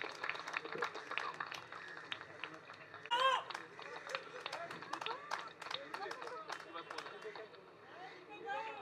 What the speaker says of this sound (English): Loud round of applause, please.